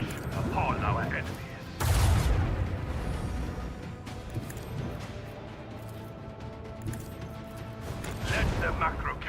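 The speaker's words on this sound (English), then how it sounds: "Let the macro cannons sing their deadly litany." Macro cannon fire from a starship in the Rogue Trader video game, a loud crashing boom followed by rumbling, mechanical clatter and further thuds, with another heavy burst swelling near the end.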